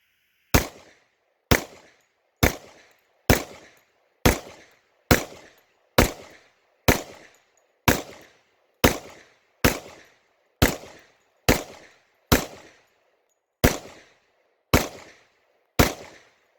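A Rock Island Armory 1911 10mm pistol fires Remington 180 grain full metal jacket rounds, about sixteen sharp, loud single shots spaced roughly a second apart, each with a short decaying echo.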